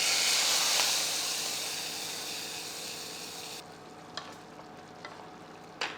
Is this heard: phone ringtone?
no